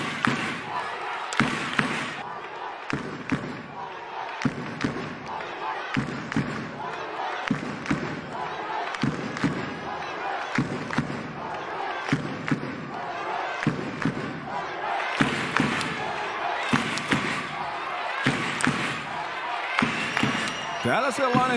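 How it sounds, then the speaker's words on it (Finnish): A crowd of about 1,200–1,300 fans in a basketball arena during a timeout at a bronze medal game between Korihait and Helsinki Seagulls. They chant and clap in a steady rhythmic beat, loud and sustained, with a commentator's voice over it. "Annetaanpa Winterin yleisön puhua"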